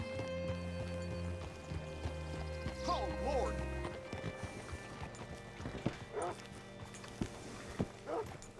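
Horse hooves clop in a Red Dead Redemption 2 game scene, a few soft irregular footfalls and a brief snort over a steady low music bed, with someone speaking briefly.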